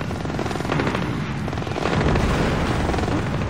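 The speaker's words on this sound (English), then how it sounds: "You heard something? Yeah, I guess. Explosions." Explosions from the stealth action video game Splinter Cell Blacklist, a dense, continuous roar of blasts and rumbling gunfire-like bursts filling the whole stretch at steady loudness, with no talk over it.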